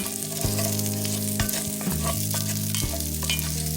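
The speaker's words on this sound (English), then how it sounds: "we're going to go ahead and let that saute. Let's go ahead and mix it around." Vegetables sauteing in olive oil for a homemade vegetable beef soup, a steady close sizzle and crackle broken by several scraping stirs of the utensil across the pan, with no talking.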